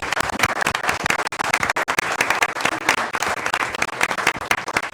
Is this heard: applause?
yes